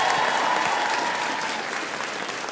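A live studio audience at a talk show applauds loudly and steadily for a few seconds, a dense clapping wash with no speech over it.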